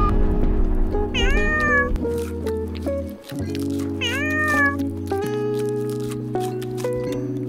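A cat meows repeatedly in loud, close, drawn-out calls with rising and falling pitch, over a sustained tonal musical background.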